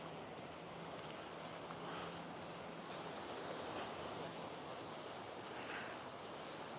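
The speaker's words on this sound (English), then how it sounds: "I'll just listen to those waves for a second." Soft, steady rush of ocean surf heard from a distance, a continuous washing roar with slight swells and no voices.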